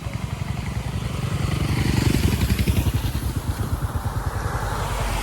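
A vehicle, motorcycle-like, passes on a hill road near Mirik, its engine chugging loud and close in rapid even pulses that swell and then hold steady.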